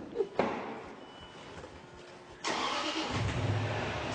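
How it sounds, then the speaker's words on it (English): A new car's engine is started nearby, a short cranking burst then a steady mid-pitched idle that settles in and keeps running, fairly loud with no talk over it. "just turn the engine on for us"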